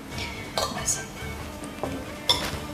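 A fork and other cutlery clink against dishes over a Hutsul home-cooked meal of hot mushrooms and porridge, with several sharp, close metallic clinks scattered across the moment while people talk around them.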